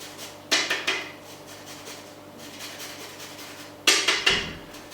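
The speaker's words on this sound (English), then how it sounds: "Put some zest on first." A lemon is zested over a kitchen counter, with two short bursts of scraping against the grater separated by a quiet pause, close and fairly loud.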